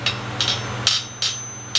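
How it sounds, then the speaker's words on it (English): A small blacksmith's hammer strikes metal at the anvil edge while shaping points, giving five sharp, ringing taps in an uneven rhythm, close and clear with no talk. "I even use this little tiny hammer quite a bit for doing points"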